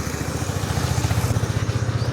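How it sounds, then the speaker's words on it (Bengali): A motorcycle engine runs steadily close by, its low pulsing drone holding at an even level for a couple of seconds as it passes on a street during a Basanti Puja festival outing. "Motor cycle."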